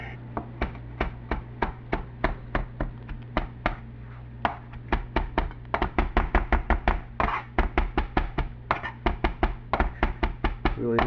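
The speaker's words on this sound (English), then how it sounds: "We pluck that like that, take it, chop it right on up." Knife chopping fresh cilantro on a cutting board for a lobster salad: a steady run of sharp, close, rapid knocks, some bursts faster than others, with a low hum underneath.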